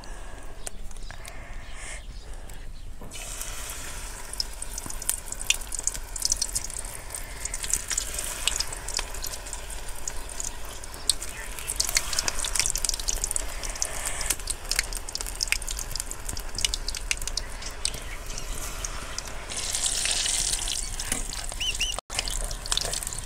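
Spinach bhaji fritters, palak in batter, frying in very hot oil: a steady, dense crackling sizzle runs the whole time, with bubbly bursts rising and falling, close and fairly loud, with no voices.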